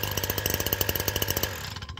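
STIHL HS82R hedge trimmer engine firing up and running, a close, loud, rapid buzzing two-stroke chatter that cuts off toward the end.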